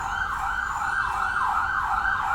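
An ambulance siren wails, sweeping up and down in steady cycles, loud and continuous as it passes, with low road rumble underneath.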